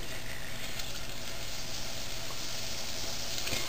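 Homemade donuts fry in hot oil, giving a steady, close, even sizzle and crackle that runs unbroken throughout with no speech.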